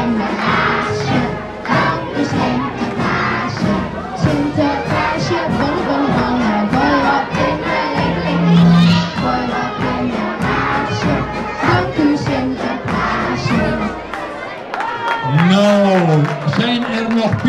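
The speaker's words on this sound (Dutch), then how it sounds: "Applaus voor Lars." A crowd at a Sinterklaas celebration in Erp claps and cheers, children shouting among the noise, while loud amplified talking and singing carry on over it throughout.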